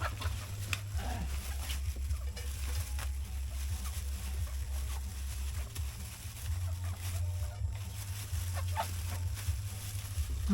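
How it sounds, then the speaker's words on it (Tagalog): Chickens cluck softly now and then over a constant low engine-like hum, the bird calls small and scattered against the steady background. "Mga manok."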